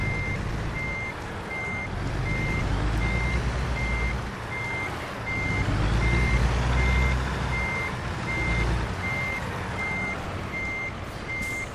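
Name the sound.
truck weigh station alarm beeping in American Truck Simulator video game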